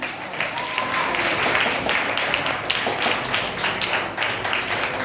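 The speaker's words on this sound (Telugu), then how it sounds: "క్లాప్స్ కొట్టండి గట్టిగా." A church audience at a Gospel Day parish celebration in Chowdavaram claps loudly and steadily for several seconds, a dense, continuous patter of many hands filling the room.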